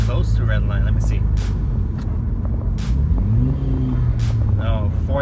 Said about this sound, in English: when you rev your engine on the CVT, it doesn't go to red line